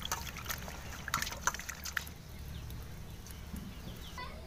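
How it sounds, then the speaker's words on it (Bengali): Pond-caught fish being washed under a running kitchen tap: a steady splashing water stream, quiet and close, with a few clucking chicken calls in the background early on. "এখন কলের জলে ভালো করে ধুয়ে নিচ্ছি।"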